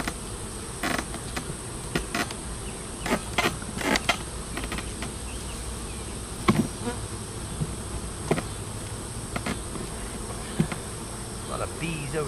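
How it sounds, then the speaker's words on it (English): A dense, steady buzz of many bees robbing a weak hive fills the air, with occasional louder bees zipping past close by. "A lot of bees over here."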